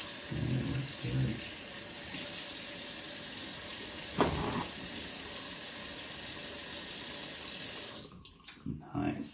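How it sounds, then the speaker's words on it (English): Water runs steadily from a sink tap in a continuous hiss for about eight seconds, with a voice speaking briefly in the background, then stops and gives way to a few quiet handling sounds. "turn off the water"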